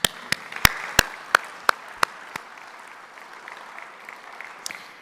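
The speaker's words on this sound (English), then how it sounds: "Let's give you a round of applause." An audience at a lunch keynote applauds: a few loud single claps first, then a scattered, thin round of clapping that fades out.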